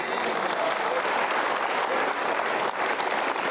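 A seated audience at a Mario Teguh seminar breaks into dense, sustained applause, with steady, even clapping filling the room without a pause.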